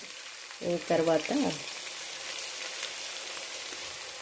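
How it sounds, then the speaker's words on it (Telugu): Fenugreek seeds and a couple of green chillies fry in hot oil in a pan for a Telangana fish curry, giving a steady, close hissing sizzle throughout. A voice speaks briefly near the start. "మెంతి, 2-3 పచ్చిమిర్చి వేసి కొంచెం ఫ్రై చేయాలి"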